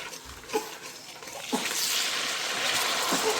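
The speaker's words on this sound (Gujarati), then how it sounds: "હવે અંદર નાખીશું થોડુંક પાણી" Water pours into dabeli masala sizzling in melted butter in a pan, a steady hissing sizzle swelling after a few soft spatters, close and fairly quiet with no voices.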